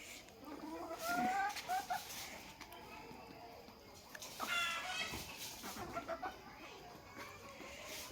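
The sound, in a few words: desi chickens outside in the evening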